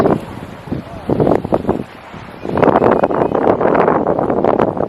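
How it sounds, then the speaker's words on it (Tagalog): Strong wind buffets the microphone in loud, roaring gusts, with a brief lull before a sustained blast; faint voices counting down are partly buried underneath. "Alam niyo bang sobrang mahangin?"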